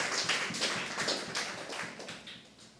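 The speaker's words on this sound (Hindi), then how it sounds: "सब ताली बजा के" Congregation in a church clapping hands together in a steady, even rhythm, many claps blending into a loud, continuous patter with no voices on top.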